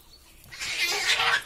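Cats fighting outdoors in a garden: a rising, yowling squall swells in after a quiet moment and holds loud and harsh for about a second, no talk over it.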